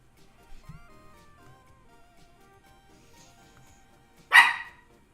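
Dogs barking nearby, one sharp loud bark standing out near the end after a quiet stretch with faint background noise and a soft low thump.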